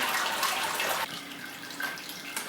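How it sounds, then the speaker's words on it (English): Sparge water flowing steadily into grain in a Grainfather home brewing system, a continuous close splashing hiss like running tap water with brief shifts in intensity and no talking. "What we're getting now is a much more typical flow of sparge water."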